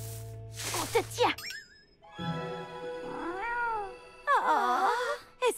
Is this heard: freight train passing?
no